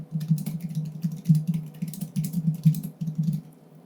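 Typing on a computer keyboard to enter a prompt into Microsoft Copilot, a close, continuous patter of key clicks with short pauses and no voices.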